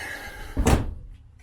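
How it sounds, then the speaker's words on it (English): Someone tries to open a stuck door on a 1970s Austin Allegro car, giving one heavy close thunk with a short metallic rattle against low background noise. "can't get that door currently open at the moment"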